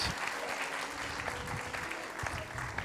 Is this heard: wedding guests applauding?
yes